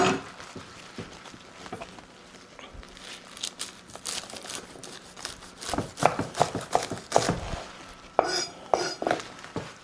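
Knife slicing through a bunch of unwashed spinach on a cutting board, irregular crisp crunches and board taps that grow louder and busier toward the end.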